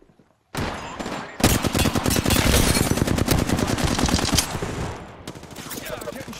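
Rapid automatic gunfire from the Apex Legends video game starts with a few shots, then bursts into a loud sustained stream of rounds for about four seconds before easing off and resuming briefly.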